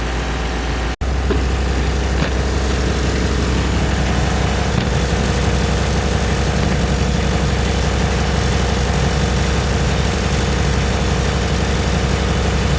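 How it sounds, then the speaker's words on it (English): A Chevrolet Silverado 1500 pickup engine idles close by with a new water pump humming, a continuous low rumble and hum with no talking, broken only by a brief click near the start. "So there's the new water pump humming away."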